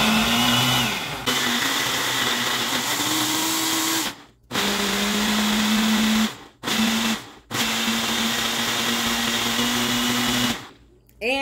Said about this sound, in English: and blend it up